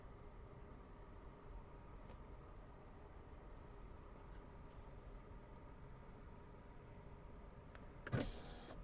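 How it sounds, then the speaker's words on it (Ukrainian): Power windows run in a 2011 Škoda Octavia A5 1.6 MPI: a faint, steady motor whir inside the quiet cabin, ending in a brief louder clunk near the close. "Склопідйомники працюють"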